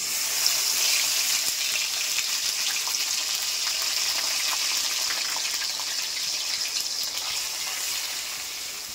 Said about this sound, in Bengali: এইবারে তেলটা আমার গরম হয়ে গেছে, তার মধ্যে আমি পেঁয়াজ বাটাটা ছেড়ে দিচ্ছি